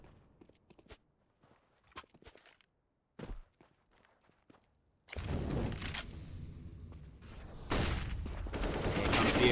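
AK rifle fire in Counter-Strike on Dust 2: a few sparse footsteps and clicks at first, then sustained close bursts of loud automatic gunfire filling the second half.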